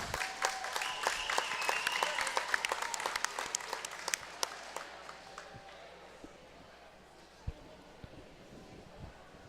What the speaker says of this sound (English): One more round of applause for all your finalists.